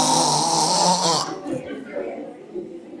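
A voice imitates loud, ugly snoring, a harsh rasping snort followed by rattling breathy rumbles, close and alone.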